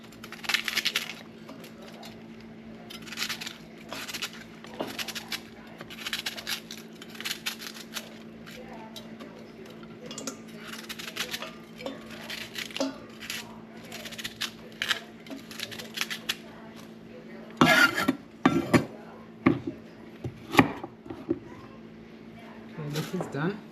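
Purple onions being cut with a knife on a board: quick, crisp chopping taps in irregular runs, close by, with a steady hum beneath and a few louder knocks near the end.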